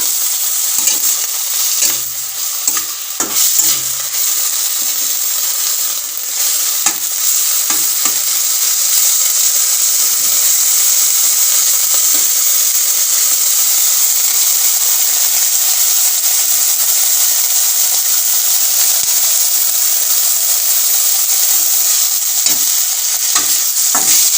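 Drumstick leaves (sajne shak) fry and are stirred in a pan, a loud, steady hiss of sizzling oil with occasional scraping and clatter from the spatula.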